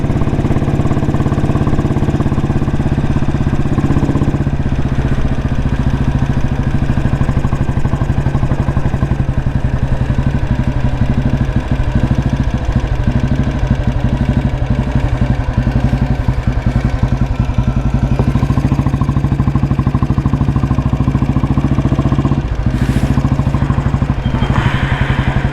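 A 1987 Royal Enfield motorcycle engine idling loud and close, a steady low thumping chug with mechanical clatter throughout, without talk.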